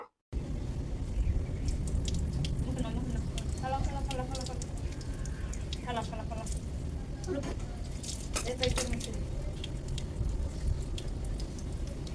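Water runs steadily from a rooftop tap as someone washes their face outdoors, a continuous close splashing flow with a voice speaking over it at times.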